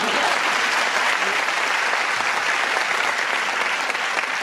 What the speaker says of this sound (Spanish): Venga, va, aplausos.